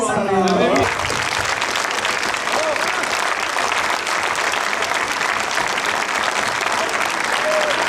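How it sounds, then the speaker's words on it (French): Cinema audience at a film preview screening in Beauvais bursts into applause, a loud, dense, continuous clapping that fills the room for several seconds after a brief voice at the start. "levez-vous, on vous applaudit."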